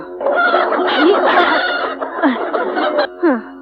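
A rooster clucks and calls loudly up close, a busy run of throaty squawks with a couple of rising notes near the end.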